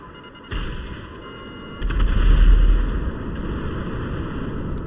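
Missile explosions in GTA 5 Online: a sudden blast, then a louder, deeper rumbling boom that swells and slowly fades over steady game background noise.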